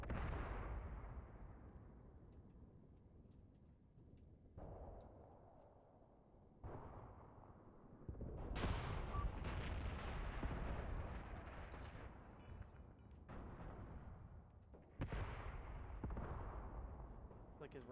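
Artillery shells explode in the Graviteam Tactics war game, a series of heavy booming blasts every two to three seconds, each with a long rumbling decay. The blasts sound distant and are loud.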